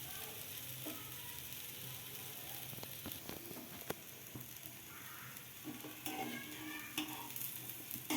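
Black chickpea dosa batter sizzles softly and steadily on a hot pan over a low flame, a faint, even frying hiss with occasional light clinks and scrapes.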